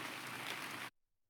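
Steady, dense hiss of video game rain pattering on a surface, loud and even, cutting off abruptly to near silence just under a second in.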